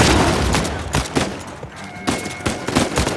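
Rapid gunfire in Uncharted 4 rings out in several bursts of sharp, loud shots, some close and some in quick volleys, with short pauses and a brief tonal ring between them.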